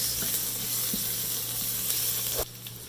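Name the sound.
finely chopped ginger sautéing in a pan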